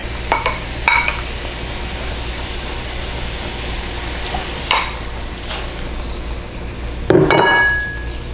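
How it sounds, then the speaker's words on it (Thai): Beef being stir-fried in thin coconut milk for a Thai red curry with pumpkin, with a steady low sizzle, a few scraping stirs, and a clink of a utensil against the pan near the end. "อย่างแรกเลยเราจะนำเนื้อมารวนกับหางกะทิก่อน"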